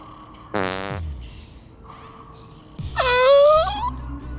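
A cartoonish fart sound effect from the video game Crash Twinsanity, in two bursts: a short harmonic blast, then a longer wobbling, descending squeal with a moaning quality, loud and up close, no talking.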